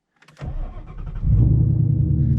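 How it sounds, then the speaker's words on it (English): A manual-transmission car engine cranks briefly, catches, and settles into a loud, steady idle close by. "hit your start button or turn the key."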